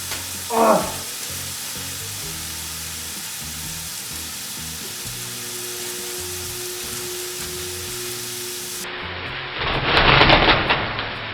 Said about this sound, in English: With the water boiling, we now throw our pasta in for about 8 to 10 minutes.